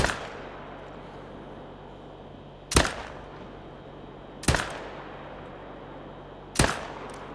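Three loud rifle shots ring out at a cow moose in theHunter: Call of the Wild, spaced a couple of seconds apart, each a sharp crack with a short fading tail over quiet outdoor ambience.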